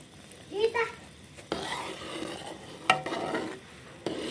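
Desi ghee being stirred into jaggery in a pan, with soft scraping and a few sharp clinks of a spoon against the pan under a faint sizzle, and a brief murmur of voice early on.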